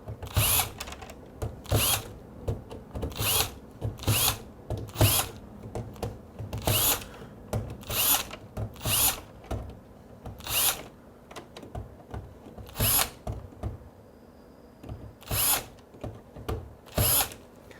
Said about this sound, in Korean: 여기 나사도 좀 미리 좀 풀어 놓겠습니다